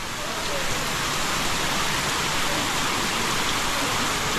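Heavy rain pours steadily outside a pilgrims' hostel on the Camino de Santiago's French Way, a dense, constant roar of falling water filling the scene at close range without pause.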